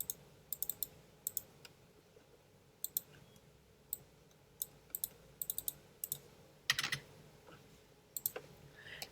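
Quiet, close-up typing on a computer keyboard: scattered clusters of sharp little key clicks with short pauses between them, over a faint room hum and no talk.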